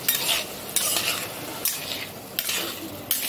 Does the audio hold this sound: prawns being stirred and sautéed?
yes